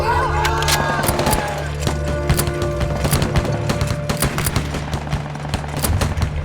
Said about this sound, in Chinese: 对天开枪，越热闹越好，打！